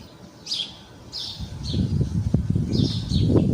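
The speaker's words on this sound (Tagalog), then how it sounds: "Maririnig yung mga huni ng ibon." Birds chirp in the countryside, a series of short, high calls repeating every half second or so over a low, rumbling outdoor background that grows louder toward the end.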